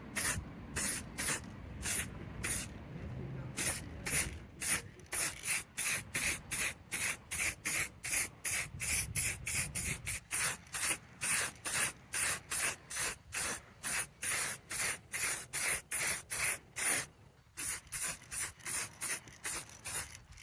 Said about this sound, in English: I'm probably going to run out of black spray paint